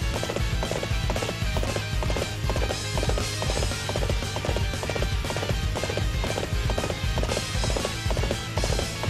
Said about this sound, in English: Horses are pretty fast in this game,